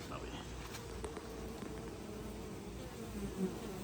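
Honey bees buzz steadily around backyard hives, a dense continuous drone close by and fairly loud, with a faint voice murmuring underneath.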